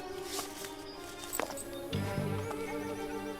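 Horses give a shrill neigh over a quick patter of hooves clip-clopping, all packed into a few seconds.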